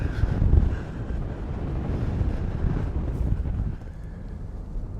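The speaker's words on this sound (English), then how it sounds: "It's really cold and really windy, but just gorgeous scenery out here." Strong cold wind gusting across the open South Dakota badlands, buffeting the microphone with a heavy, uneven low roar that is loudest at the start and eases slightly near the end.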